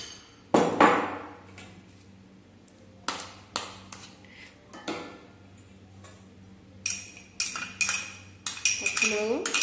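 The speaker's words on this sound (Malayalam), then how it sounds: "ഇനി നമുക്കിതെല്ലാം കൂടെ മിക്സ് ചെയ്തെടുക്കാം" A spoon mixes a hot mashed potato filling in a bowl, giving irregular clinks and knocks against the dish, sparse at first and then a quick run of ringing taps near the end.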